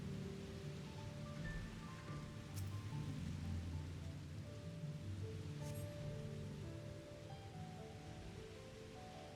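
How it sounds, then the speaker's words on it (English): Steady, soft hiss of rain falling on surfaces in the video game Final Fantasy XIV, a faint continuous wash with no voices. "it's raining again."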